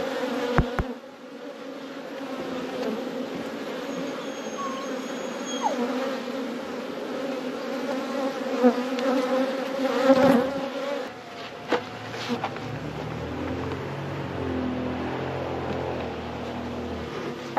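Honeybees buzz at an open hive during a first early-season inspection, a close, continuous droning hum with shifting pitch, plus a few handling clicks and rustles.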